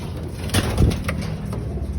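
A pigeon in labor before laying eggs gives a low, throaty coo up close, a short rolling call over faint background noise.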